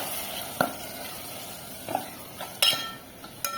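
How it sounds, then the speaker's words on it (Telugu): Liver for a liver curry frying in a pan, a steady soft sizzle broken by a few spoon scrapes and clinks against the pan. "ఆల్రెడీ కడిగి పెట్టుకున్న లివర్ని వేసేస్తున్నా."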